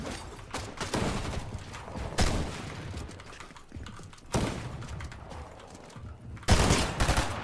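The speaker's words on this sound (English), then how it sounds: "Another team shooting at us" Fortnite gunfire from an enemy team, with rapid bursts and sharp volleys coming close together across the clip and loud spikes near the middle and end, playing alone without speech.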